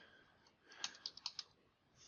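Soft, quick keystrokes on a computer keyboard entering a search query in an app, a short burst of several faint clicks in a quiet room.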